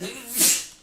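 A single short sneeze, sharp and close, bursts out with a breathy hiss and fades within a second.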